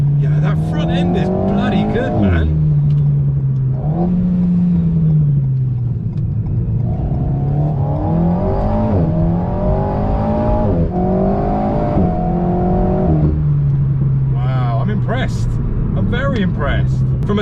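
Engine drone and road noise inside a 96% aluminium Alpine sports car while driving, with the engine note rising and falling as it accelerates, heard loud and continuous with someone talking over it.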